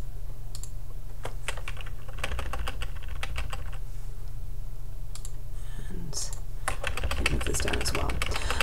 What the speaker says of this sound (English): you can move this down just using your keyboard, the arrows on your keyboard